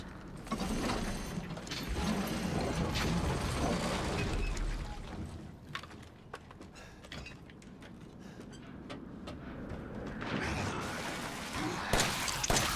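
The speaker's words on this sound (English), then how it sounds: "let's use the crank here once again" A crank being turned in Resident Evil 7, heard as a steady grinding mechanical ratchet with gear clicks that runs nearly the whole time under dark ambient game sound.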